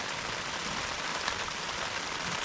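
Rain falls steadily outside, a soft, faint and even patter and hiss heard from a sheltered spot, with no voices over it.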